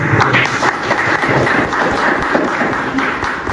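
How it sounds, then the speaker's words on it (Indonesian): Audience applause welcoming a 29-year-old guest at an evening Pancasila discussion event, a steady dense crowd clapping wash that carries on without pause, fairly loud, with no voices over it. "Kita berikan aplaus dulu"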